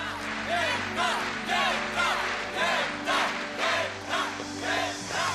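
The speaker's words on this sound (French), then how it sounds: "Est-ce que tu les entends? C'est toi qu'ils acclament, rien que toi." A stadium crowd of spectators at a Beyblade battle chanting and cheering in steady rhythmic waves, loud and continuous, swelling roughly every half second.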